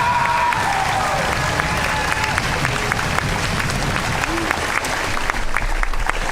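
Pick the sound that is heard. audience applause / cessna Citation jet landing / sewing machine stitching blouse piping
audience applause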